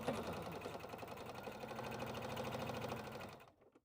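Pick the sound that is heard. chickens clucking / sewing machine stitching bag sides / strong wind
sewing machine stitching bag sides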